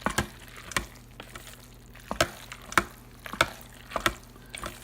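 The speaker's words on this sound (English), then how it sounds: "I'm gonna stir everything up." Risotto with basil stirred in an Instant Pot, a spoon scraping and knocking against the pot in separate strokes about every half second, close and wet, with no talking.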